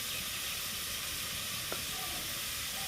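Chal kumra (ash gourd) and shrimp in a pan just dusted with turmeric, giving a soft steady sizzle with a faint scrape of stirring and one brief click partway through.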